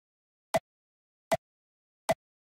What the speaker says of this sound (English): So it's really a tiny click sound